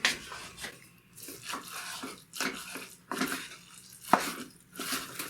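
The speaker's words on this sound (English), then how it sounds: "a lot of lifting, turning, chopping through until you get the cheese distributed throughout" Wooden spoon or spatula lifting, turning and chopping through a kimchi rice and burger casserole to spread cheese, giving repeated scraping and clattering strokes against the dish, close and steady with no voices.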